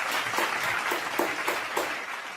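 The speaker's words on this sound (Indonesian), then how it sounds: "Coba beri tepuk tangan untuk kelompok 1" Scattered clapping from a classroom audience applauding a student group during a microteaching lesson, a steady patter with a few sharper claps, moderately quiet and without talk.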